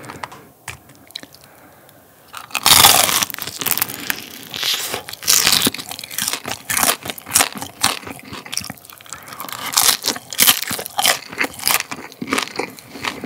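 Crunchy bites and chewing of fried guobaorou pork, eaten close to the mic in a malatang mukbang, with a quiet pause followed by a rapid run of sharp crackling crunches.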